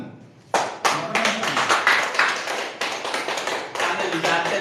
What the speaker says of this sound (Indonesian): Tepuk tangan tuh Bapak ya